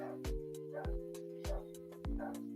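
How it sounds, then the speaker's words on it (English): A dog gives four evenly spaced barks, each short and moderately loud, over a faint steady tonal hum in the background. "And the dog is barking a"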